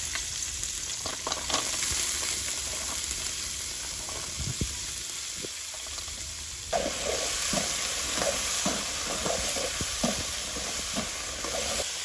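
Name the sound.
small river fish cooking with jackfruit seeds in a pan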